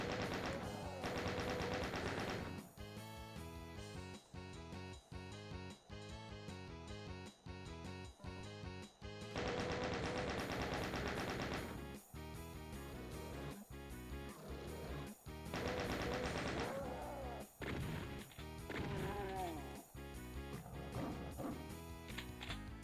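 Enemy gunfire crackles through a Doom 1993 PC level: repeated sharp shots and bursts over loud, continuous game music, with no talking.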